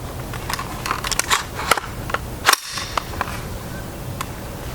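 Several sharp, loud rifle reports from .223 Remington Wolf Polyformance 55gr hollow-point ammunition fired through a 10-inch barrel, spaced irregularly with crackling transients and one heavy shot near the middle, no talking.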